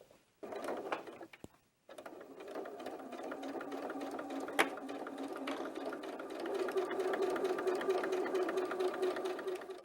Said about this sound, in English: you're going to sew along the entire bottom edge of the main panels of the bag